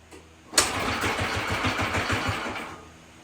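A 1950s–60s Craftsman lawn tractor's small engine cranks and catches after a brief pause, then runs with a rough, rapid putter and uneven knocking and rattling.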